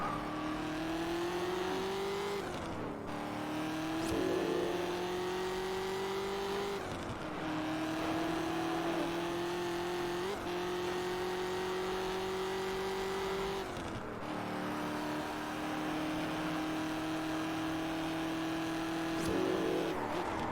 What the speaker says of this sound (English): Best sounding V8 so far